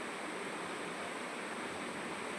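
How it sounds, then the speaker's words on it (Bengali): Heavy thunderstorm rain pours down steadily over the Durgapur Steel Township A-Zone, heard from indoors behind closed doors as a constant, dense, even roar with no distinct drops or breaks. "খালি বৃষ্টির শব্দটা শোনো"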